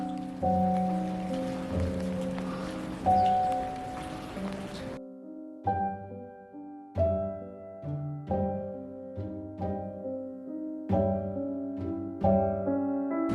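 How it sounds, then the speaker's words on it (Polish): Rain falls on an abandoned World War II military building with a collapsed roof and soaked wood, a steady broadband hiss that is clear for the first few seconds and then sinks under louder tonal music. "też pada deszcz"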